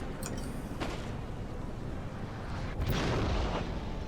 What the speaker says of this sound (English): There's his artillery piece.